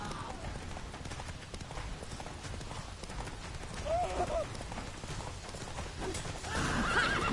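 Roach, the horse in The Witcher 3 video game, galloping with rhythmic clip-clop hoofbeats, breaking into a short neigh midway, with game music and voices talking over it.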